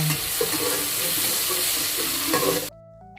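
Bacon-wrapped enoki mushrooms sizzle and crackle steadily in a hot pan, with scraping stirs over the frying; the sound is close and continuous, then cuts off abruptly near the end.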